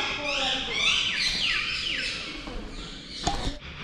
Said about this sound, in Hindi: एक तोता बैठा बहुत प्यारा सा